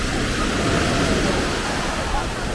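Warm sea surf on a public beach roars steadily in a broad, continuous wash of noise, with slightly choppy waves and a faint breeze blowing over the microphone.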